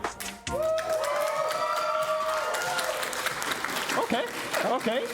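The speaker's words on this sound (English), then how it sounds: "So cheer loudly if you are in favor of Zwickau for this grand final." An esports crowd at a Rocket League grand final cheers loudly with applause and sustained shouting, filling the room throughout, with a voice audible over the noise.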